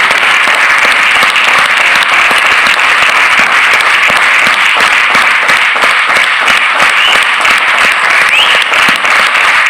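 A large audience claps at a leadership summit in a big room, loud dense applause sustained evenly throughout.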